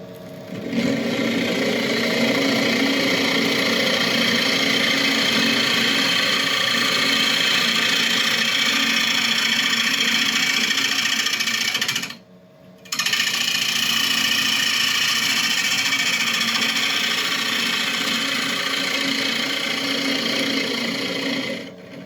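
Wood lathe spinning steadily while a carbide scraper cutter cleans up the surface of the turned piece: a loud continuous hum and whir, broken by one brief pause midway, with no talk.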